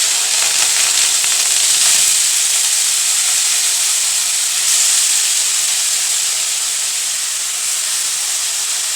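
Amla (Indian gooseberries) sizzling in hot ghee in a kadai over a low gas flame, a steady dense hiss running throughout with slight swells, close and fairly loud, no voices.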